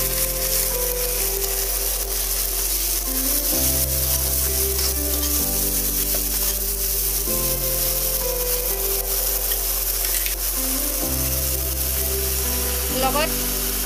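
Potatoes fry in hot oil with garlic, cumin, chilli and bhedai lota paste, giving a loud, continuous close sizzle with occasional stirring scrapes and no pause in the crackle.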